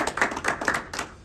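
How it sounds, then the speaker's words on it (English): Audience applause following a stage introduction at a Scottish event, a short burst of crowd clapping that swells, fades and picks up again near the end, heard alone with no talking. "Let's give him a round of applause."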